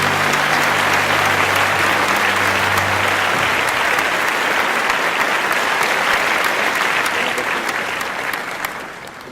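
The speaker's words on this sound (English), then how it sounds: "With a huge round of applause, can we please have on stage Mr." Loud, sustained applause from a large audience at a hospitality convention as a guest speaker is welcomed on stage, continuous clapping that tapers off near the end.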